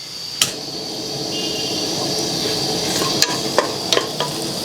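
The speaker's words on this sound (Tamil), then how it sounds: "5 ஏலக்காய், 5 மிளகு, 2 கிராம்பு அதை ஆட் பண்ணிவிட்டு அப்படியே லைட்டாக வதக்கிக்கோங்க." Cardamom pods, black peppercorns and cloves sauté in hot oil for rice porridge, a steady close sizzle with occasional sharp clinks of a utensil against the pan.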